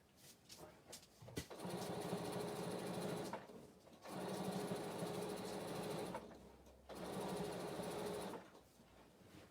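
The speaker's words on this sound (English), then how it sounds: "I'm just sewing, Molly." A sewing machine stitches in three steady runs of a few seconds each, a close, even whirring hum with short quiet gaps between the bursts.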